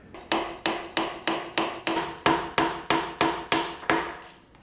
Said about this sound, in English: with a small flat blade and a hammer